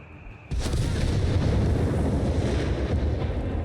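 Mortar fire in Company of Heroes 3 erupts after a brief quiet lead-in, a loud sustained blast and rumble that holds steady to the end without talk.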